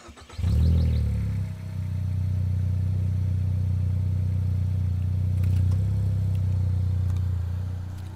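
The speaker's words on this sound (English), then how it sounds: "I also got downpipe and exhaust, so we'll do like a little startup" Car engine with an aftermarket downpipe and exhaust cranks and fires, then settles into a steady, deep idle that stays fairly quiet, with a slight swell in level partway through before easing off.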